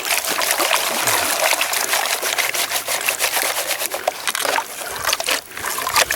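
Water sloshing and trickling in a gold pan during fast panning for black sand, a continuous, close, fairly loud swirl with small splashes and no voices.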